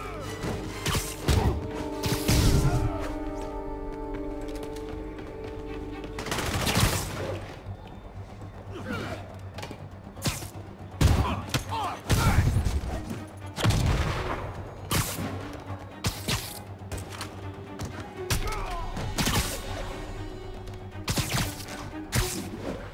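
Gunfire and combat from the video game Marvel's Spider-Man Remastered, with repeated shots, thuds and crashing impacts in bursts over a steady game soundtrack and character voices.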